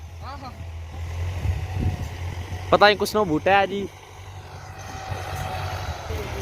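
A tractor ploughing a field runs with a steady, low engine rumble underneath people talking nearby.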